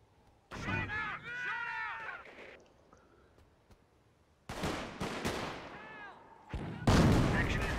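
Mortar fire in the World War I strategy game Company of Heroes lands in several loud, sharp blasts separated by quieter stretches, with a voice and other battlefield sounds between them.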